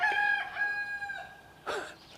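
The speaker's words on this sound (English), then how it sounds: "rooster in the background." A rooster crows in the background, a few clear drawn-out calls with a rising-falling shape, fairly distant and alone with no talk over it.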